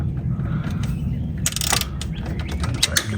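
Ratchet tightening a drain plug on a 2012 Polaris Sportsman 400 HO ATV, a close, quick run of light metallic clicks over a low background hum, with a brief louder burst midway.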